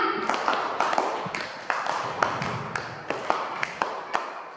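A group claps in a counted rhythmic pattern, sharp bursts of hand claps grouped into repeated sets with short pauses between, fairly close and distinct.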